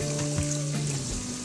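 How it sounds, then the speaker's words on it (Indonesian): Soaked peanuts are washed in water: a steady, close rush of splashing and trickling water with faint rubbing, fairly loud and continuous, with no talk. "Sambil dicuci dan dibersihkan juga kulit-kulit arinya ya"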